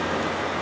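Steady rain hiss and road noise while riding a delivery motorbike through a downpour, a dense continuous wash with low rumble underneath, no talking.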